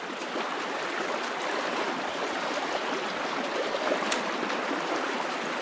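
River rapids rush in a steady, broad, close wash of flowing water that holds an even level throughout, with no voices.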